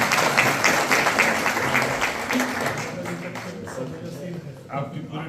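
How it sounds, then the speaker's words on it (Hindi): Applause from a crowd at a public gathering honouring police fades gradually over several seconds, with voices talking over it as the clapping thins out. "जोरदार तालियां आपके लिए।"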